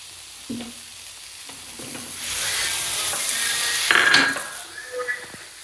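Mushrooms and capsicum sautéing in a pan, giving a soft continuous sizzle with occasional stirring scrapes and clacks of a utensil, louder in the middle. Close up, with no talking.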